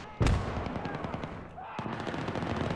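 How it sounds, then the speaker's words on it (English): Video game gunfire in Battlefield 3: rapid bursts of automatic fire, one loud close shot followed by steady rattling volleys, with distant battle noise behind. "I don't see where I'm being shot at from."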